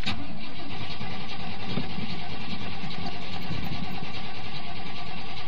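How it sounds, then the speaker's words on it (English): A 5.4-liter fuel-injected diesel engine in an older SUV with 54,000 original miles cranks and catches, then settles into a steady, loud, rumbling idle close by with no talk over it. "Let's see if it'll start. I don't have to wait for glow plugs."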